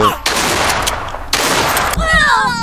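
Gunfire in the video game CODE2040, a dense burst of shots that fills most of the stretch, breaks off briefly, then resumes with game sound effects, loud and close.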